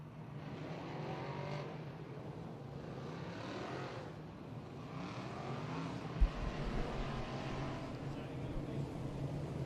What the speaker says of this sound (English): Heat race number 3 rolling up onto the raceway now